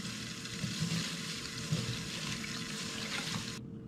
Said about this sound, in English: So just rinse pine needle.